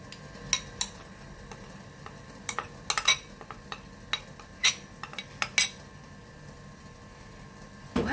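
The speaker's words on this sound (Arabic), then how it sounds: "وهلأ رح نحرك لحتى يختفي عنا اثار السكر ويدوب مع الزبدة" A utensil clinks against a bowl while melted butter and powdered sugar are stirred together, sharp intermittent taps and scrapes at an uneven pace, close and clear, with no voices.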